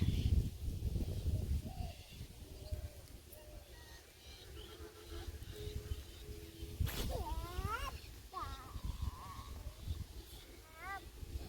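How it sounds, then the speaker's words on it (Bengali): Birds calling in a village garden after days of rain: several short chirps and whistles ring out at moderate distance, mostly in the second half, over rustling and outdoor background noise. "আর এদিকে পাখিতে ডাকতেছে"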